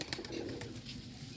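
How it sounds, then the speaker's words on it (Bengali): Rajshahi Giribaz pigeons in biscuit colour cooing close by, a steady low murmuring coo running through the whole moment with no talk. "রাজশাহী গিরিবাস বিস্কিট কালার কবুতর জোর অনেক সুন্দর জোর কবুতর"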